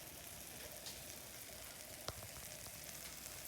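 Jamaican festival dumplings frying in a shallow layer of oil, a steady dense crackling sizzle at low volume with one brief sharp pop partway through, no talking.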